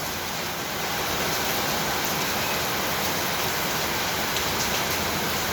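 Heavy rain falling in the Philippines, a dense, steady roar of downpour that holds constant throughout with no voices.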